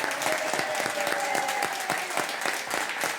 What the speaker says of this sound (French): je vous demande de l'applaudir, avec Elena.